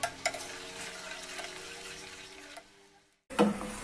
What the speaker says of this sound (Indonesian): Gula kita masak sampai gula benar-benar mendidih.